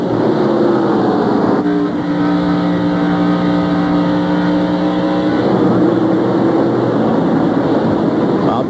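Stock car engines roar continuously at high revs on Bristol Motor Speedway, a loud steady drone with a pitched whine as cars pass close by.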